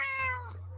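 A cat gives a single clear meow close by, a drawn-out falling cry lasting under a second over a low steady hum, with no talking.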